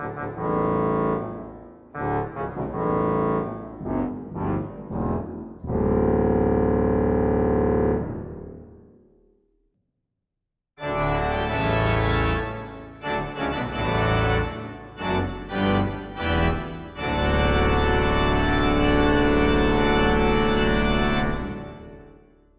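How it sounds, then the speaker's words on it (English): Pipe organ pedal reeds play alone at first in low, growling detached notes, then a long held chord. After a short silence the full organ enters, loud and bright, with chords in rhythm and a long sustained ending. "I'll play the pedal by itself and then turn on full organ so you can hear how it works together."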